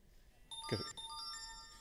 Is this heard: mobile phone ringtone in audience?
yes